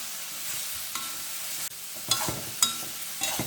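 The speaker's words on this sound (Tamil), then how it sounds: "நல்லெண்ணெயிலே வறுத்துடலாம்" Small onions and tomato fry in sesame oil with a steady close sizzle, broken by a few sharper stirring scrapes and clatters toward the end.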